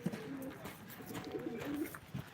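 Pigeons coo softly in low, rounded murmurs at a live pigeon auction, with faint background noise and no talk.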